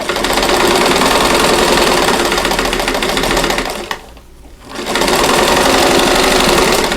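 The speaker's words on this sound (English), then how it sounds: "I'll sew the entire block before I move on to the next one" A sewing machine stitches the seams of a diamond four-patch quilt block, running loud and steady with a rapid needle rhythm, pausing briefly for about a second midway before resuming at full speed.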